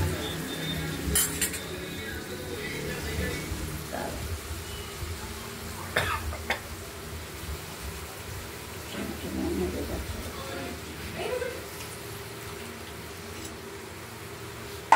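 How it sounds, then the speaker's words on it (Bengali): Spice paste being sautéed with potatoes in a pot for a rohu fish curry with coriander, heard as clinks and scrapes of a spoon against the pot over a low hiss, with occasional coughs and voices in the background. "এবার এই আমরা মশলাটাকে আলুর সঙ্গে কষিয়ে নেব।"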